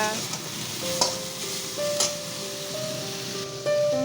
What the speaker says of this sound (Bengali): আর এদিকে শাক ভাজা